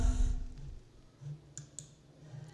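A computer mouse clicks on a spreadsheet cell, giving a few faint, sharp clicks close by against a quiet background.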